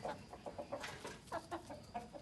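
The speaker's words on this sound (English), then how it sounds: "These are our local birds." Free-range local chickens on a Ugandan farm cluck in quick, repeated short calls, fairly faint and overlapping, with a steady low background murmur and no talking.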